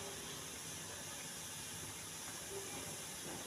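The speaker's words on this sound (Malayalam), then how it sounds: "ഇനി അത് അവിടെ നിന്ന് ആവി വരട്ടെ" A chiratta puttu steamer releases steam as a faint, steady hiss that stays even throughout, with no other sounds.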